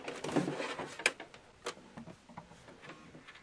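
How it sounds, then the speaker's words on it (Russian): An inkjet printer powers on, giving off a faint series of mechanical clicks and short whirring bursts spaced irregularly over a few seconds in a quiet room. "необходимо включить принтер в сеть"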